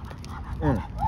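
A dog on a walk gives short whimpers and yips up close, with a brief whine near the end, set against light outdoor background noise.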